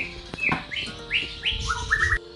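An orange-headed thrush gives a series of short, bright rising chirps and whistles, close and clear, with a faint knock or two in the background and no talking.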